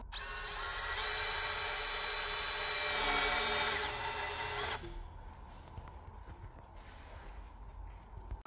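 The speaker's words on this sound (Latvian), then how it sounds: "Un tālāk vienkārši skrūvējam iekšā skrūve." A power drill drives a screw into a wall plug in plasterboard, whirring steadily for about five seconds, close and loud, then cuts off, leaving quiet room noise with faint handling sounds.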